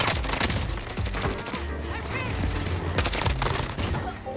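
Rapid video game gunfire in bursts, loud and close, rattling on through the whole stretch with a brief talking voice barely under it.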